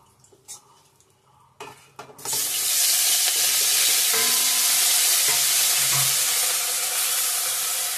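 Food frying in a pan: a few soft clinks and utensil knocks in near quiet, then a loud, close, continuous sizzle that bursts in after about two seconds and holds steady to the end.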